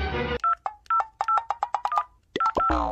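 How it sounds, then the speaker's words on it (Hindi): A phone number is punched in as a quick series of bright, evenly spaced keypad tones, about a dozen short beeps in an indoor home setting, with a brief voice at the start and end. "ले फोन कर।"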